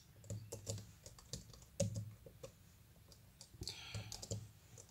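Quiet, close typing on a tablet's keyboard, irregular soft clicks and taps in quick clusters with brief pauses, faint overall.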